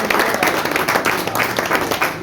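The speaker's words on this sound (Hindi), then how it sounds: "जोरदार तालियों से" Loud, dense applause from an audience at a ceremony honouring women of the Rangrez community, a steady wash of many hands clapping with no pauses, close and filling the room.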